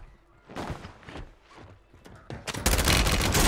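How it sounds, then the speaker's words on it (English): A shotgun called the riveter fires in a team shooter match, with scattered blasts early and a loud sustained barrage of gunfire toward the end and no voices. "Dude, this shotgun is weird."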